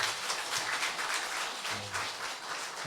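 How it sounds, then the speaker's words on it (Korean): Applause from a congregation at a church Bible seminar, a soft continuous patter of many hands clapping, heard faintly from a distance without talk. "다시 한번 큰 박수 부탁드리겠습니다."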